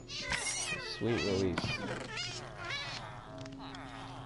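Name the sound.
cats meowing in the video game Minecraft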